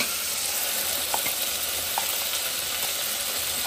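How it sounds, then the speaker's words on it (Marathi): Ground spice paste frying in hot oil, a loud continuous sizzle close up, with a few faint clicks of stirring, no voices. "आता हा वाटलेला मसाला टाकला आहे चांगला, तो पण तेलात मस्त फ्राय करून घ्यायचा ना मम्मी?"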